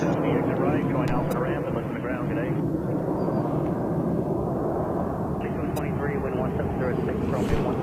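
An Airbus A321-231 airliner at JFK airport, a loud, continuous jet engine roar with rising whine tones, close and dominant, with voices talking underneath.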